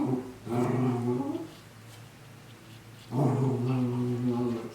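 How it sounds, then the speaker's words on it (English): A playful dog growls in two drawn-out, rumbling bursts separated by a short pause, close by and fairly loud, with no talk over it. "That's my dog"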